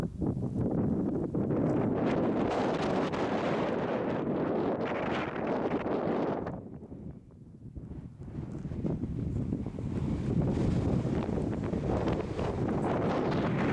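Strong wind gusting across a trail on the descent from Wasson Peak in Saguaro National Park, buffeting the microphone in loud, continuous roaring blasts that ease briefly partway through, then return with full force.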